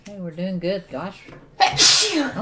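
A loud, sharp sneeze bursts out after some casual talk, followed by more speech.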